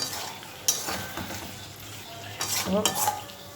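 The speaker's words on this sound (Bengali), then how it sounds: "এবার মাছটা একটু নাড়ি" A utensil scrapes and stirs through stingray pieces frying in a hot pan, with soft frying sizzle underneath and a few clinks.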